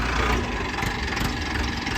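A Mahindra Arjun 605 tractor with shuttle gear runs with a steady, rumbling engine drone, close and continuous through the whole stretch with no pauses.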